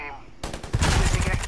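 A minigun in Predator: Hunting Grounds spins up and unleashes a loud, continuous rapid-fire stream of shots that builds suddenly after a brief quiet moment and stays harsh and overpowering.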